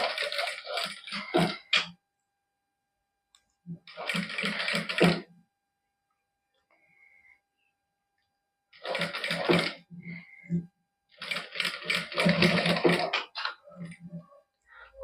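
A sewing machine stitches fine lace onto a garment neckline in a Punjabi boutique, running in several rapid, rattling bursts separated by silent pauses.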